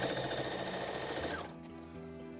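A sewing machine stitches a cushion cover with a steady, close, loud mechanical whir that slows and winds down partway through, leaving a quieter hum.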